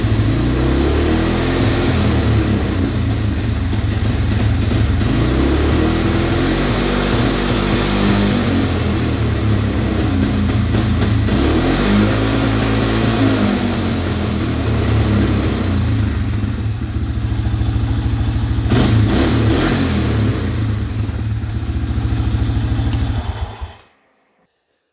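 An ATV engine runs with a stuck throttle cable holding the throttle open, revving loud and steady with slight surges for over twenty seconds, close by, then cutting off abruptly.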